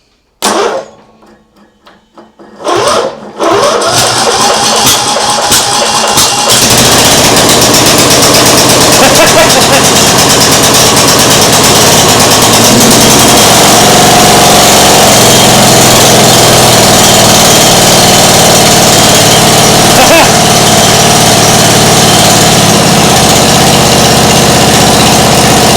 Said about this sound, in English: I think the exhaust is leaking.